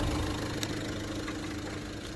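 A 2018 Renault Master van engine idling with a steady low rumble and faint mechanical ticking, continuous throughout.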